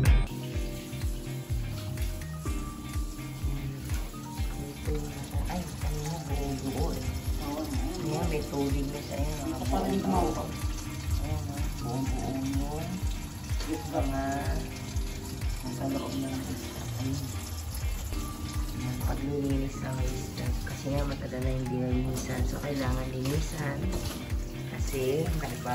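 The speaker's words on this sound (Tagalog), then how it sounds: "Dire-diretso na yung tubig niya." Water running freely down a drain through a freshly cleaned condo grease trap, a continuous gurgling flow with splashy bursts, moderately close, under background talk and other household sounds.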